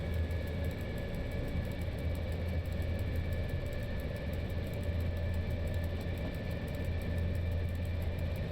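A passenger train running on rails in the SimRail simulator, a continuous steady rumble and rolling hum with a faint high whine, alone and unchanging.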